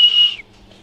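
One short, clear high-pitched whistle lasts under half a second and trails off into near silence.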